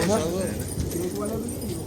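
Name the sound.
pigeons cooing in a pigeon loft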